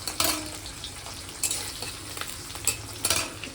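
Whole cumin, bay leaves and dried red chillies sizzle in hot oil with a steady low crackle, broken by a few sharper scraping stirs, close and moderately loud with no talk.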